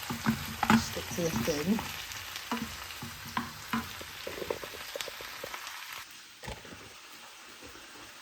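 A cheese toastie gets pushed around a frying pan, with soft sizzling and scraping scuffs that are busier early on and quieter toward the end, and a brief spoken word at one point.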